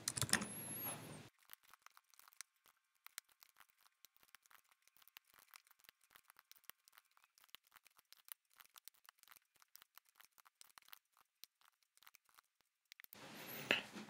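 Code is typed on a computer keyboard in a long run of quick, faint, close clicks with uneven rhythm. Louder rustling noise comes at the start and end.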